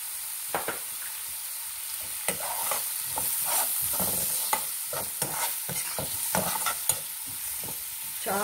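Chopped onions and broad beans with turmeric frying lightly in a pan, an even sizzle punctuated by frequent, irregular scrapes and taps of a spoon stirring close by.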